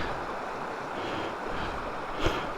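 Creek water flows at Sight Creek in Idaho as a constant broadband rush, fairly loud and close, with a brief louder splash near the end and no voices.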